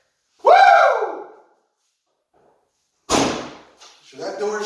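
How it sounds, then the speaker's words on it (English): The door of a Ferrari F355 is pushed shut, one firm thud near the start, followed later by a brief clatter and voices talking. "So that door's shut."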